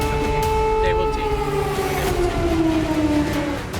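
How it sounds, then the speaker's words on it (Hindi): An air raid alert siren in Ukraine wails with steady, sustained tones that slowly glide downward, loud and continuous over a background murmur. "तभी हवाई हमले से अलर्ट करने वाला सायरन गूंजने लगा।"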